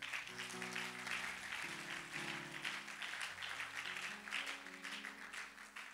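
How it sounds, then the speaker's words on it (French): Sustained applause fills a church, with a congregation clapping steadily throughout and an organ or keyboard chords sounding underneath. "Acclame pour le Seigneur."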